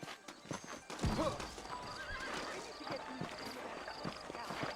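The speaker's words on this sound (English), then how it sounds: "I got the horses saddled up and ready out front." Saddled horses in the Red Dead Redemption video game whinny and neigh several times over clip-clopping hooves, close and fairly loud, with an outdoor ambience behind and a brief voice at one point.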